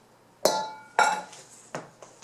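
Utensil clinking against a mixing bowl while strawberry cake batter is folded by hand, four separate knocks with a brief ringing tail, close and fairly loud, with no talk.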